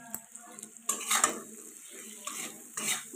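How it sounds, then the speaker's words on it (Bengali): Fried cauliflower and potato stirred in a pan, with a spatula scraping and clinking against the metal in uneven strokes over a soft sizzle, close and moderately loud, with no talk. "ভালো করে নাড়াচাড়া করে নিতে হবে।"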